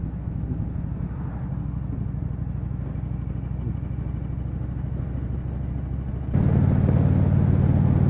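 Motorcycles ride along a muddy countryside road, a steady low engine rumble and wind noise running throughout, growing noticeably louder and fuller for the last couple of seconds as the engine note rises.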